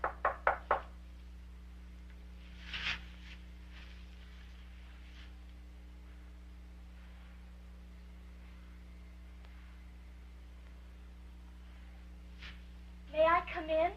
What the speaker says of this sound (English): finally gained enough courage to knock on my door